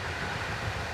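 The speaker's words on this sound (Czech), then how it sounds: "Už jedeme vlakem" Steady rumble of a rolling passenger train heard from inside a carriage, a continuous low-frequency drone with a faint rattle, even and unbroken throughout.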